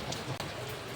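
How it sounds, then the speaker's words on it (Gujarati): Steady rain pours down outdoors, a dense, continuous hiss of drops striking surfaces with no break, close and even in level throughout. "હા હાલ તો ગાઈસ વરસાદ આવે છે જો"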